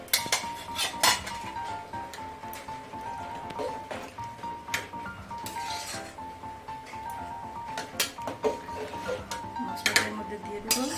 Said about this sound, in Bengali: ভাজা মশলাটা সমস্ত খিচুড়িতে দিয়ে দিলাম।